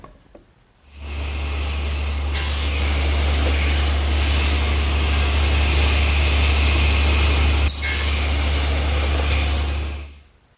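A table saw spins up and makes a shoulder cut across the top and bottom edge of a board for a harvest table tenon, a loud steady whine with a deep motor hum, running about nine seconds before winding down.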